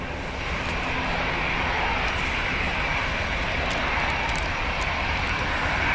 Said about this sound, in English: British Airways off to Heathrow, ready to roll.